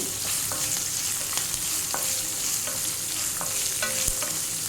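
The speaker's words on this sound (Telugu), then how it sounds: "ఒక రెండు ఎండుమిర్చి వేస్తున్నాను అలాగే పచ్చిమిర్చి ఒక నాలుగు పచ్చిమిర్చి చిన్న చిన్న ముక్కలు కట్ చేసుకుని వేసుకోవాలి" Dry red chilies and chopped green chilies fry in hot oil, a loud steady sizzle with frequent sharp pops and spatters, close up with no talking.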